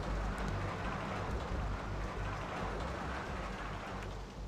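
Steady rain falls in the video game RollerCoaster Tycoon, a soft, continuous hiss of drops with faint low rumble beneath, even and unbroken from start to finish.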